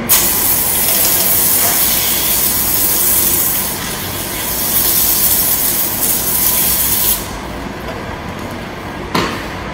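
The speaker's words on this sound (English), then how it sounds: "I also like to use my power clean and my foam sprayer for this part of the cleaning." A foam sprayer hisses steadily and loudly as it coats car wheels and tires with cleaner, with a brief pause near the end before another short burst.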